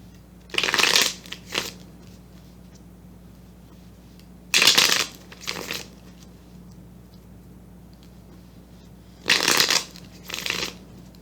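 A deck of tarot cards is shuffled in three separate bursts of riffling, each a quick pair of crisp, close flutters with quiet pauses in between.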